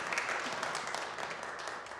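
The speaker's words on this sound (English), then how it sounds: "I just wanted to give a rousing round of applause for everybody serving on council." Faint applause from a small audience at a Coffee With Council community meeting, a light patter of hands clapping steadily for the council members for a couple of seconds.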